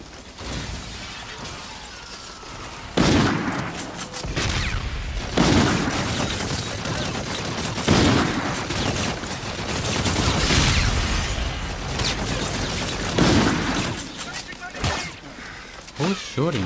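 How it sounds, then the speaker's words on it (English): Gunfire and blasts in a Call of Duty Infinite Warfare campaign battle: loud, broadband bursts strike every second or two over a dense, continuous din of combat noise, with crashing, shattering impacts and voices mixed in. "Who's shooting?"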